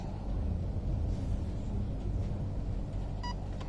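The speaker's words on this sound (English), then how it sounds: "now wait for first layer, second layer, 3 beeps." An ARC ONE ESC in programming mode gives a single short, bright beep near the end, over a steady low background rumble.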